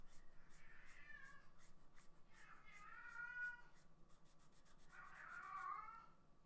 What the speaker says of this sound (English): Loud cat is loud.